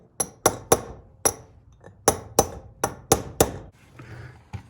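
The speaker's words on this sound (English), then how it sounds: "it's just about as easy to drive these things in by hand with the hammer" A hammer drives a bearing race into a Toyota axle knuckle with about a dozen sharp, ringing metallic strikes, loud and close, in irregular bursts with short pauses.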